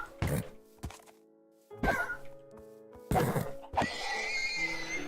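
Horses in the Minecraft video game neigh and snort in several sharp bursts with thuds between them, close and loud, with no talking.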